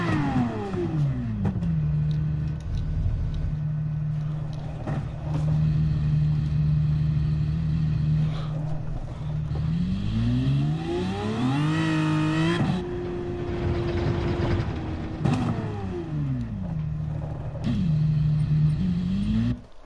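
A car engine drones and revs on the Nürburgring in Gran Turismo 7, pitch climbing through gears, dropping on shifts and rising again, loud and continuous throughout.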